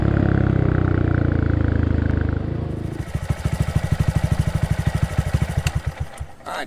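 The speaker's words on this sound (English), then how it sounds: "I left the bike running while I went and got this camera to set up" A Honda Monkey motorcycle with a Yoshimura RS3 exhaust idles close by, a steady loud engine drone that shifts into a distinct lumpy, pulsing putter of exhaust beats, with no talk.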